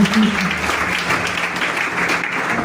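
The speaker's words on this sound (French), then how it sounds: "Acclame Jésus." A church congregation breaks into loud, sustained applause acclaiming Jesus, a dense close wash of clapping with voices mixed in throughout.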